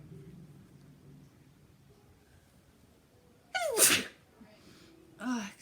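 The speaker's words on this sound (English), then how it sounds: "I'm gonna sneeze." A single loud, sharp sneeze bursts out close to the mic after quiet murmuring talk, followed moments later by a shorter voiced sound.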